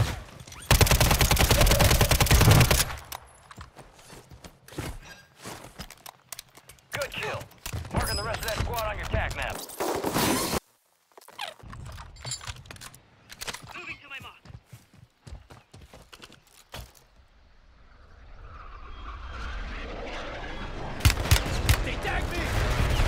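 Gunfire crackles through Call of Duty Resurgence on the Vondel map, with loud bursts and rapid volleys mixed with game effects, while players talk over the action.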